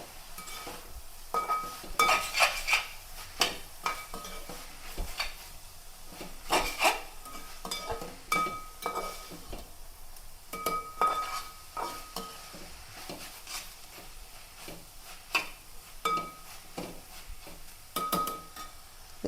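Chicken noodles with tomato sauce and sugar are stirred in a pan, the spoon scraping and clinking against metal in repeated strokes over a soft, steady sizzle, with no talking.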